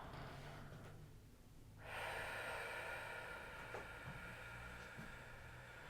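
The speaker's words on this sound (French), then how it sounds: "Tu souffles." Slow exhale through the mouth during a stomach vacuum exercise, a soft breathy rush that swells about two seconds in and holds steady, close and alone with no talking.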